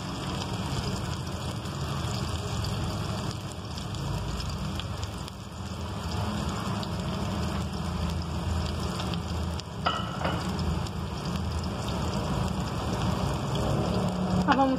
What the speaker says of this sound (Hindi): ये देखें आप लोग घी में फ्राई करें, इससे बहुत क्रिस्पी और बहुत अच्छा कलर आता है।